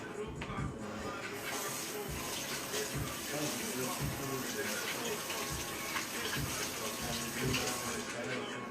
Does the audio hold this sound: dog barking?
no